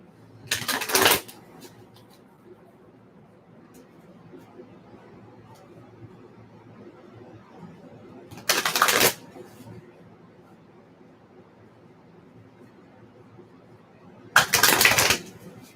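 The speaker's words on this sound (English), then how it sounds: "Again, going to shuffle these cards up." A deck of tarot cards shuffled in three short, crisp riffling bursts spaced several seconds apart, with quiet room tone between them.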